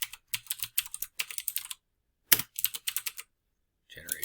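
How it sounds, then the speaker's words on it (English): Quick bursts of typing on a computer keyboard while entering data into a spreadsheet, clustered keystrokes in two runs separated by a brief pause, close and fairly quiet, with a faint voice near the end. "So I'm going to start typing."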